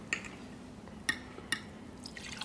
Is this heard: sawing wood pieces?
no